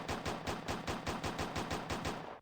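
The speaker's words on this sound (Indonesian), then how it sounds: "Kita tembak lagi." Rapid automatic gunfire in the game Uni Craft Your World, about a dozen evenly spaced loud shots in a quick steady burst with no talk.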